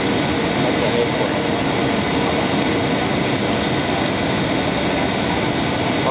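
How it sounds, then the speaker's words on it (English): A United Airlines Airbus A320 lands at San Francisco Airport, heard from inside the cabin as a loud, steady jet engine roar with constant rushing noise throughout. "we're now landing at the airport."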